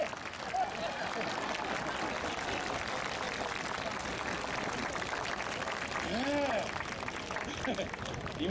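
Applause from a street-festival crowd in Shizuoka for a performer's ring-spinning act, fairly distant and steady, with voices and crowd noise mixed in.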